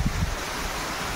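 A small waterfall on a village trail near Amboli gives off a steady, close rushing wash of falling water, with a couple of low gusty thumps at the very start and no voices.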